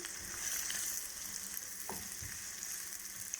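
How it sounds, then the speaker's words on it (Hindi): Onions softening in a frying pan for bhindi masala, a steady close sizzle with occasional stirring scrapes and crackles, no voices. "बहुत ब्राउन नहीं करने प्याज, सिर्फ हमने हल्के हल्के नरम करने हैं प्याज"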